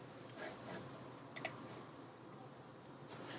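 A computer mouse clicking, a quick pair of crisp, faint clicks in a quiet room with low background hiss and no talking.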